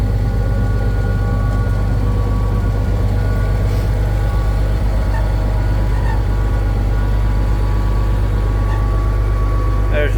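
An old tractor engine, made decades ago and used for pecan harvesting, runs in a loud, steady, low rumble close by, while a person talks over it.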